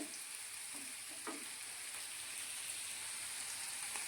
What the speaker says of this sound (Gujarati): અને આ બાજુ આપણે હળદરને જરા હલાવતા રહીશું